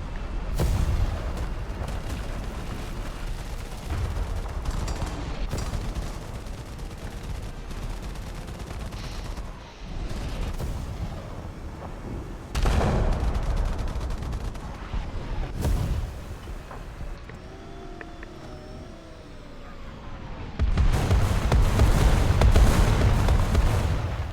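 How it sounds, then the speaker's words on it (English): A War Thunder artillery barrage with a run of heavy explosions and booms, some distant and some closer, rumbling steadily and building to a louder cluster near the end. "Artillery barrage on your sector. See what that does."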